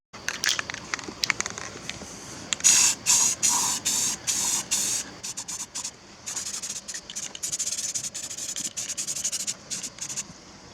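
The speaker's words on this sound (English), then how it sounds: "I got to paint the other side still." Bursts of an aerosol spray can painting parts for a homemade boat motor, a rapid series of short close hissing sprays of uneven length separated by brief pauses.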